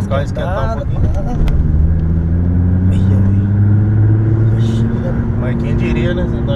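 Nissan GT-R engine idling and revving lightly while warming up, a steady low rumble with gentle rises, close and loud, with people talking over it.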